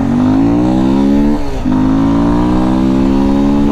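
Yamaha Lander 250 motorcycle engine revving loudly and close, pitch climbing steadily through a gear, dipping briefly at a shift, then climbing again as the bike pulls away.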